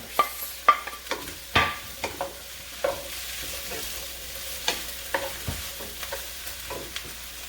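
Yellow mini peppers and green peppers sauté in a pan for a Cajun bean and vegetable soup, a soft, even sizzle punctuated by a series of spatula taps and scrapes.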